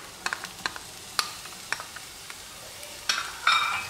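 Onion and pepper frying in a little oil in a pan over a gas burner: scattered stirring clicks and scrapes, then a brighter crackling sizzle that swells near the end, close and moderately quiet.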